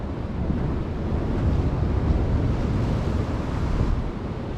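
Stormy sea with swells around six feet surges in a continuous loud wash of surf, while strong wind buffets the microphone throughout.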